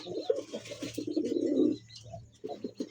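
Several pigeons of fancy breeds at a pigeon fair coo in soft, throaty bursts close by, one call rolling into the next, with a brief pause before more cooing.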